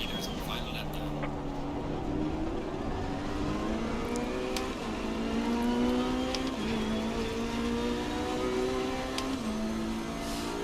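Ferrari race cars in an Assetto Corsa Competizione race at Kyalami, engines droning and shifting pitch steadily as they run their final lap, continuous and fairly close, with commentary spoken over the engine noise.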